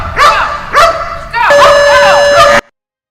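Dogs at an obedience training club yelp and bark loudly up close, two sharp yips followed by a longer drawn-out whining bark, ending abruptly in silence.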